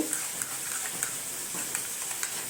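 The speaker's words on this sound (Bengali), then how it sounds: "কাশ্মীরি লঙ্কার গুঁড়ো আর হলুদ গুঁড়ো দিয়ে আমি টক দইটাকে ভালো করে মিশিয়ে নেব" Sour yogurt being stirred with Kashmiri chilli powder and turmeric in a home kitchen, a continuous soft wet scraping hiss with faint rhythmic spoon ticks, close and even, no voices.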